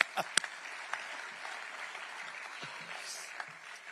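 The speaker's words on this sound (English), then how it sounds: "Let's clap to that." A civic State of the City address draws faint, scattered clapping from its audience: a few sharp, distinct claps early on, then a thin, quiet patter of hands in a large room.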